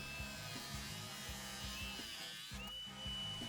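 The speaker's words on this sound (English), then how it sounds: "we're going to chop a 1/2 inch lag in half" A RIDGID Octane brushless 4-1/2 inch angle grinder whines steadily while cutting through a half-inch lag bolt, a continuous high-pitched buzz with a pulsing low hum, loud and close.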